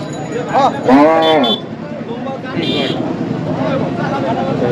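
A local bull at a crowded rural cattle market lets out a loud, drawn-out moo near the microphone, with lower bovine grunts after it, while people talk nearby amid busy market noise.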